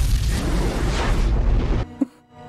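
An explosion from the film Hot Fuzz hits as a loud, heavy, rumbling boom that roars for nearly two seconds, then cuts off abruptly and leaves a brief sound and a quiet tail.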